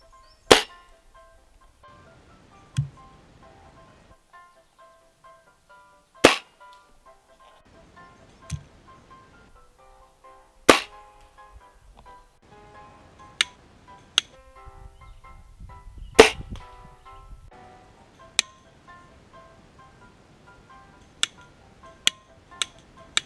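Crosman Phantom air rifle being fired, a series of sharp isolated cracks spaced a few seconds apart over quiet background, with faint handling clicks between shots.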